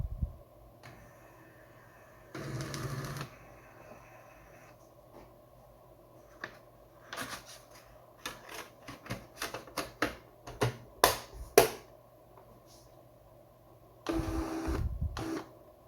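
A Sharp CE-1600P pen printer plotter at work, its pen drum and carriage producing bursts of mechanical whirring and a run of sharp, rapid clicks and taps, close and fairly quiet.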